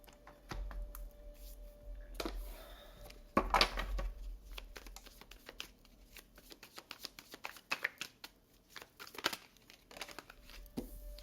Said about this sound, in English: I was just trying to shuffle for a second there.